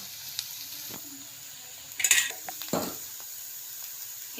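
Onion-garlic masala with red chili powder fries in oil, a low steady sizzle broken by a few sharp clinks and scrapes of a spoon against the pan, close and fairly quiet.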